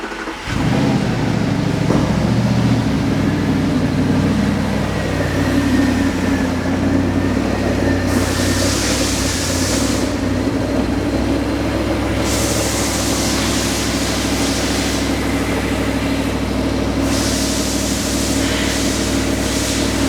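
An Audi R8 engine starts and then idles steadily and loudly for about twenty seconds, with a smooth, continuous drone and occasional surges of higher hiss.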